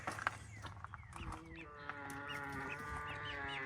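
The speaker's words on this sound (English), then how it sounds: "That's 4 Rhode Island Reds, and I think a couple of them are roosters, a couple are hens." Rhode Island Red chickens, both hens and roosters, cluck and squawk close by, with a rooster-like call and other farm animal noises layered over a busy homestead yard.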